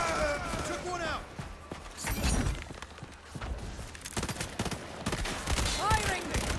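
Gunfire in the video game Highguard, rapid bursts of shots and impacts over dense game sound, with a voice talking throughout.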